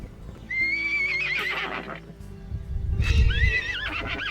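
Young wild stud colts at a horse rescue ranch whinny loudly several times near and far, with hoof clip-clop and movement in between, as they notice mares across the alleyways.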